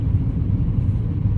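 From inside a moving car on the road, the engine drones low and steady under a constant road rumble, with no voices.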